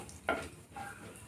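Cumin, cardamom, cinnamon and cloves fry in hot oil in a kadai, a soft close sizzle with a brief sharper crackle near the start and a faint second swell.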